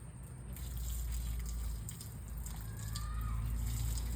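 Water runs steadily from an opened tap, a continuous close rushing flow with little change over its length.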